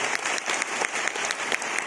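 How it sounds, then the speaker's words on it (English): A crowd at a health forum claps steadily throughout, a dense wash of many hands with scattered sharper claps, fairly loud and continuous with no speech over it. "Give yourself a bit of applause."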